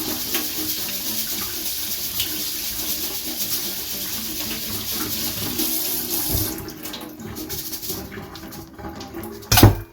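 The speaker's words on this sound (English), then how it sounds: "I do rinse my rice." Rice being rinsed under a running kitchen tap into a sink: a steady, close rush of water for about six seconds, then a quieter trickle with a sharp knock right at the end.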